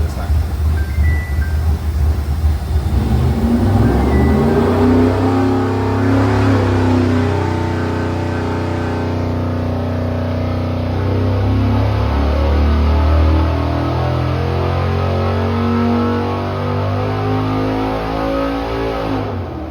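An all-aluminum 427 Chevy V8 on a dyno revving up to 6,500 RPM, a loud, close engine roar whose pitch climbs steadily over about twenty seconds, sustained and continuous.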